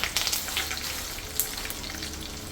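Peanuts and curry leaves frying in hot oil for vangibath gojju, a dense, crackling sizzle with sharp spattering pops near the start, close and continuous.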